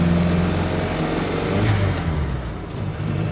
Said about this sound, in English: So we'll try and find third gear again.